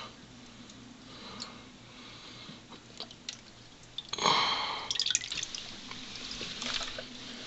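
Tanning liquor drips from a deer skin being made into leather, small irregular drips and splats, quiet at first and then a louder cluster of wet splashes midway before settling into scattered drops.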